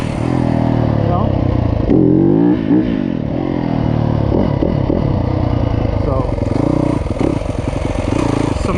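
A Yamaha YZ250F dirt bike, fitted for woods riding with a Rekluse auto clutch or flywheel weight, runs loud and close, its engine rising and falling through repeated throttle blips and revs with a rattly mechanical edge.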